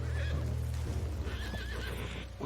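A horse in Red Dead Redemption II whinnies loudly with a wavering, rising-and-falling cry, rumbling low game ambience and faint hoof clops beneath it.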